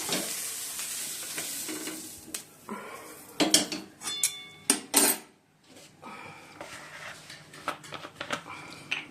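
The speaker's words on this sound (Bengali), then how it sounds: "ফুলকপিগুলো ভাজা হয়ে গেছে" Cauliflower florets fry in oil in a kadai, a soft steady sizzle broken by sharp bursts of a spatula clanking and scraping against the metal pan.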